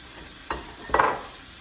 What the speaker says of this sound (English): Want to stir it in.